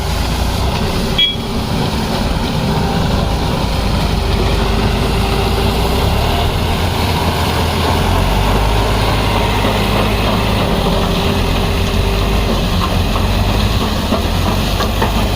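A loud, steady tractor engine idling, a low drone and hiss continuing unbroken throughout, close by.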